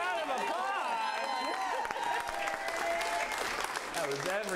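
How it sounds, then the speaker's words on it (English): A theatre audience applauds the improv comedy cast, sustained dense clapping with some cheering, close and loud throughout, with a few voices talking over it. "give the cast a round of applause"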